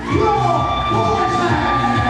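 Wrestling crowd in Union City cheers and yells for wrestler Stan Stylez, a dense, loud, steady roar of voices filling the whole stretch with no single voice standing out.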